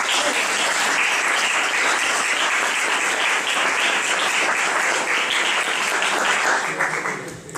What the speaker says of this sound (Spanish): pues quería pedir un aplauso para todos ellos